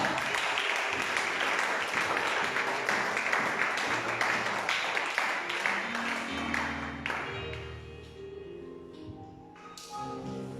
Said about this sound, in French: Acclame très très fort.